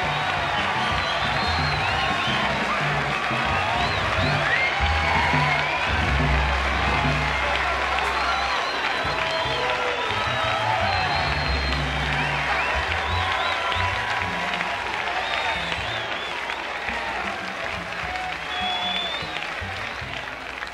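Dense crowd applause and cheering with scattered whoops at a live jazz festival in Chicago, a sustained wash of clapping that stays loud throughout as Dizzy Gillespie walks on stage.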